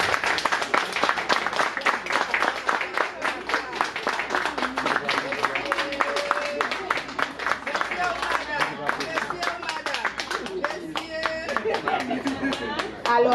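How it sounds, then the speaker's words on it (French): A room full of people claps warmly and steadily for the employee of the year at a world public service day celebration, with a voice speaking over the dense clapping. "je vous demande d'abord d'applaudir chaudement"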